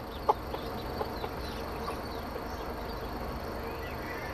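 Pekin ducklings and native ducks kept together in a pen, peeping and calling in a soft, steady chorus, with one sharper call standing out near the start.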